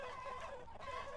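Chickens clucking in the video game Totally Accurate Battle Simulator, a steady overlapping chorus of tonal clucks in a brief, faint stretch with no speech.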